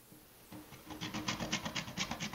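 Semi-sweet baking chocolate grated by hand for chicken chili, a quiet rhythmic rasping of about ten back-and-forth strokes, close and fairly soft.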